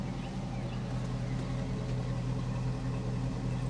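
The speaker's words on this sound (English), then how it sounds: "What a nice exhaust." A Cadillac Escalade idles with its engine and exhaust running, a steady low rumble with a smooth even drone close by and no talk over it.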